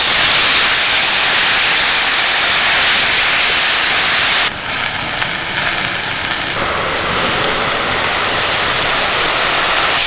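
Coriander leaves frying lightly in a little white oil make a loud, dense, continuous sizzle up close, easing slightly partway through as they are stirred.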